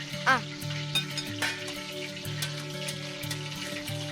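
Onions sautéing in hot oil with spices give a steady low sizzle, with a few sharp clinks and scrapes from stirring near the start, and no talk.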